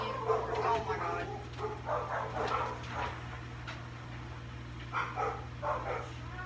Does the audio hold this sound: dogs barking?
yes